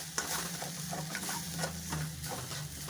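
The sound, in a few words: mixing salted mashed potato for vada pav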